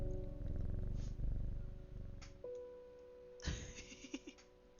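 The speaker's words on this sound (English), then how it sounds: "you can hear the cat purr" A black cat purrs with a steady, low, continuous rumble, soft and close, as quiet game background music plays.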